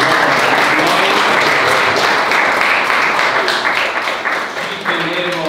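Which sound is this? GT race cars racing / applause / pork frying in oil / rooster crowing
applause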